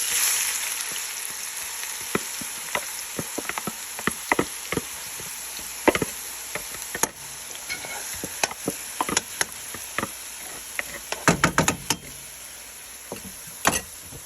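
Chopped onion, chili and garlic fry in a pan with a steady close sizzle, while a spoon repeatedly knocks and scrapes against the pan.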